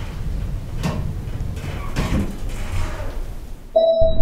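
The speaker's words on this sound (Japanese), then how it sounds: "ドアが閉まります。" An elevator door at a museum slides shut with a steady broadband rumble and soft thuds, then a clear electronic chime rings out near the end.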